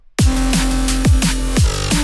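Heavy drum and bass hits repeat in a steady rhythm, each with a swooping, smeared downward chirp from a disperser effect, loud and processed.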